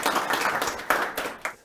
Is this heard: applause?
yes